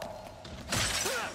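Glassy crystal shattering in the video game Ratchet & Clank: Rift Apart: a single loud crash with bright scattered fragments, a short pickup chime following, over a quiet steady game soundscape.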